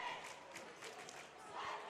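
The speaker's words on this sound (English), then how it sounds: "Oh, there's a cheer starting." A school crowd at a Battle of the Classes event cheers and chants for the freshmen, a faint, distant roar of many voices in a large space with rhythmic shouting swells.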